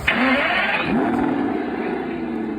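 A remote control toy car gives off a short electronic engine-start and revving effect, a brief rising whine followed by a steady buzzing motor tone, close and fairly clear.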